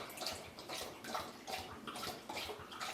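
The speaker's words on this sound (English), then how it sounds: "drinking water. I don't know if you can hear that." A pet dog named Shelby laps water steadily from a bowl, close by, with repeated wet slurps in a quick rhythm and no talking.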